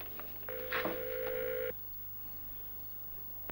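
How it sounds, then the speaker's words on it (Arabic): A telephone sounds once with a steady electronic tone lasting just over a second, close and clear over a quiet hum, then stops. "التليفون ماله؟ بيضرب."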